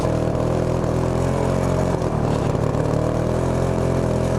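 A wrecked go-kart's small engine revs hard toward high RPMs, running rough and sputtery with a steady droning buzz, close and loud for a few seconds.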